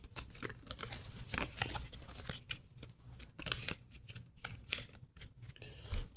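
UNO No Mercy cards, expansion-pack cards included, shuffled by hand in a rapid series of papery riffles and soft slaps, close and fairly quiet, with no talking.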